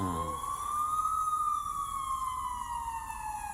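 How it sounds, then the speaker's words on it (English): A wailing siren sweeps up and then slowly falls in pitch, sounding from a distance and steady in loudness throughout, with no voices. "I finally heard sirens in the distance"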